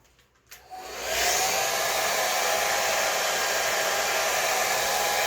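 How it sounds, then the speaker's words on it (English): A blow dryer drying hair switches on and ramps up within a second, then runs as a steady, loud, close whir with no talking. "You don't want to put the dryer too close to your hair."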